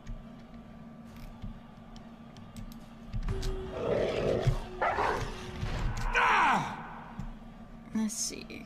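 Morgan the dog in Dragon Age: Origins gives a drawn-out howl with a falling pitch, mid-distance, amid battle sounds and voices.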